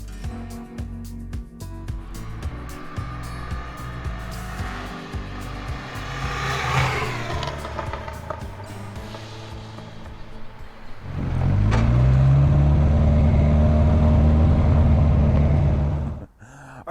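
An abandoned car that has just been revived runs and drives, its engine humming low and steady, then growling louder and fuller as it pulls away in first gear before cutting off near the end; no one speaks.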